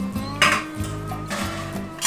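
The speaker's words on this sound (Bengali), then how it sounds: "এবার আমরা এই ঢাকাটা খুলবো" A metal plate used as a lid is lifted off a cooking pot of ash gourd and coconut curry, giving a couple of close, bright clattering scrapes and a ringing clink.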